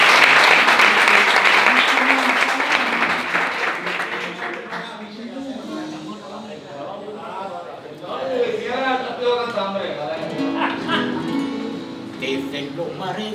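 Applause for a singer named Manuel, loud and dense for the first four seconds, then fading under voices and sung melody that continue to the end.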